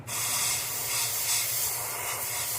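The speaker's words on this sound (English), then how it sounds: "So we're going to take this red and we're just going to spray it" Red paint sprayed from a can onto a stencil for a custom S crank, one continuous close hiss lasting a couple of seconds at steady loudness.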